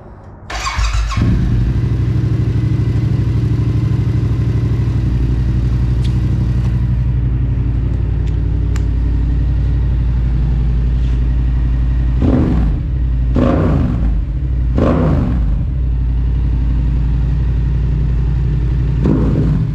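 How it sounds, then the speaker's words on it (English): A 2022 Yamaha R7 with a full Yoshimura exhaust, dB killer removed, starts up and idles with a deep, loud, steady rumble close by, punctuated by a few sharp throttle blips. "I'll power it up for you guys real quick so you can kind of hear how it sounds."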